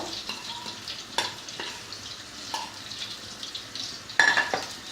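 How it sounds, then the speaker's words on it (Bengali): Onions fry lightly in a pan for a bean-seed and dried-fish curry, a soft steady sizzle broken by a few sharp stirring clatters, with no one talking. "পেঁয়াজটা যখন হালকা ভাজা হয়ে আসবে"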